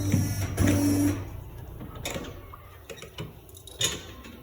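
A bakery dough-dividing machine works through baguette dough with a loud mechanical whir and clunk up front, then fades into quieter clicks and taps.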